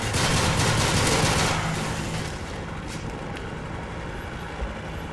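Rapid automatic gunfire rattles in a Modern Warfare 3 multiplayer domination match, dense and steady at first, then thinning into scattered distant shots and background noise, with no talk.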